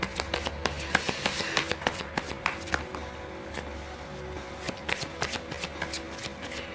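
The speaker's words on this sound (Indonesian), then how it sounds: "aku terpanggil buat shuffling kartu saran pakai kartu ini atau deck ini" Deck of tarot cards being shuffled by hand, a series of quick riffling and tapping bursts at close range, quiet overall with no talk.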